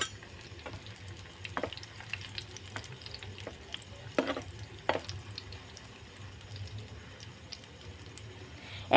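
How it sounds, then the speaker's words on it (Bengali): Three egg chicken mughlai parathas fry together on a tawa with a faint, low sizzle, punctuated by scattered sharp clicks and scrapes from turning them, and no one speaking. "এখানে 3টে আমি সব ভেজে নিচ্ছি"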